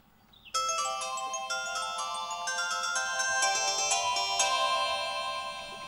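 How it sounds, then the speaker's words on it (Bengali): A mobile phone ringtone sounds for an incoming call, a bright melodic electronic tune of stacked tones starting abruptly after a brief quiet moment and playing on steadily, fairly close and clear. "ওই বাড়ি থেকে ফোন এসছে।"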